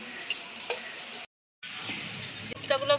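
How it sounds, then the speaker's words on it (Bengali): Pointed gourd koftas frying in hot oil, a soft steady sizzle with a few clinks and stirring knocks, broken by a brief cut to silence midway before the frying resumes. "কোপ্তাগুলো ভাজা হয়ে গেল"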